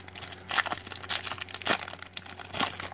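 Upper Deck 2019-20 Series 1 hockey card blaster packs torn open by hand, giving close, crinkly foil rips and crumpling in several bursts with no talk.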